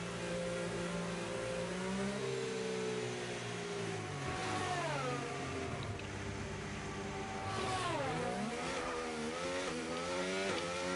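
Race car engine lapping Imola in a racing video game, a loud, rising and falling whine as gears shift up and down, with several pitch sweeps across the lap and no talk.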